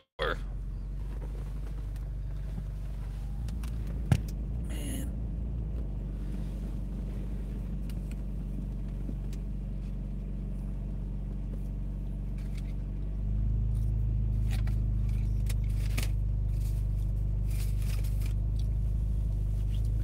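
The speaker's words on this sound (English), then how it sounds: "Car's idling high as shit right now" A steady low car engine rumble idling, stepping up louder and higher to a high idle around 1,500 rpm partway through and holding there, with a faint voice near the start.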